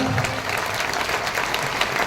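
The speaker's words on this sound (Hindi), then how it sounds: "ताली मर्दों वाली बजा लीजिए" An audience at a speech in Surat claps together in steady, dense applause, loud and sustained throughout with no break.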